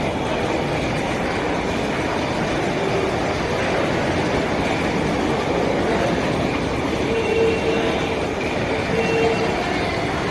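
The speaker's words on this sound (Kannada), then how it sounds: "ನೋಡಿ, ಇದು ಮೈಸೂರು ರೈಲ್ವೆ ಸ್ಟೇಷನ್ನು." A train at Mysuru railway station in India rolls past with a continuous loud rumble and clatter of wheels, steady throughout with faint squeals and no talking.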